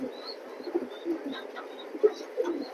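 A male chocolate grizzle pigeon, a spirited and vigorous cock, coos in soft repeated bursts close by, with faint higher chirps in the background.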